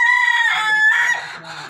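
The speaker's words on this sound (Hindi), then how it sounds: "यहाँ देसी मुर्गियाँ वगैरह रखी हुई हैं।" Desi chickens in a coop, a close, loud, drawn-out cackling call from one bird with another answering, ending in softer clucks.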